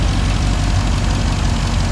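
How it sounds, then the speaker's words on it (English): A 2020 Dodge Charger's Hemi V8 idles close and loud, a deep, steady low rumble with even throbbing pulses and no talk. "Definitely sounds like a Hemi."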